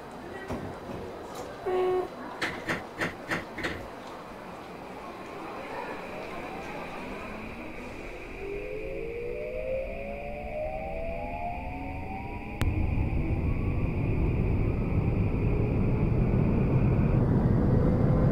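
A Tokyu 2020 series electric train departs in a BVE5 train simulator game, with door chimes early on, then a rising motor whine that climbs in pitch under a steady rumble that grows louder as it accelerates.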